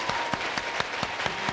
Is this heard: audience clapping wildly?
yes